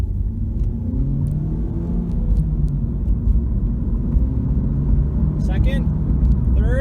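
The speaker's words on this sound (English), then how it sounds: "a 0 to 60 for you guys, and just kind of run through the gears" A 2014 Ford Focus with a five-speed manual accelerates hard from a stop, the engine rumbling and rising in pitch through several gear changes, heard from inside the car while someone talks over it.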